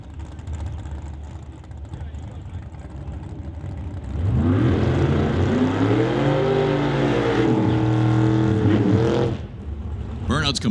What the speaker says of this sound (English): Burnout's complete for Dean Peterson and Jerry Epp.